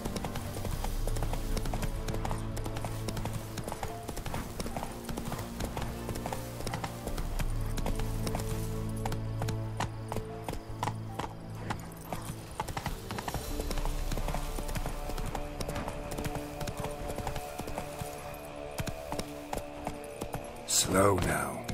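Horse hooves clip-clopping in The Witcher 3 video game, a steady close rhythmic trot of many hoof strikes alongside soft tack jingles, with a voice speaking briefly over it.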